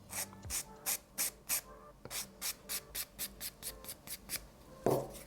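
Gel nail polish being scratched to blend a design, heard as a close, quiet series of about fifteen short, evenly spaced scratching strokes in a steady rhythm, with no talk.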